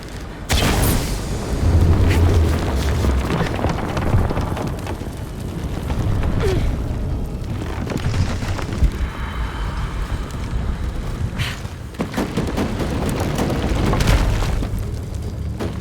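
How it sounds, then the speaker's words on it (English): A deep, rumbling explosion from the video game Shadow of the Tomb Raider bursts near the start and fills the whole stretch, followed by sustained low rumble, wind-like noise and debris crashes, loud with no talk. "An explosion would help me reach the pendulum."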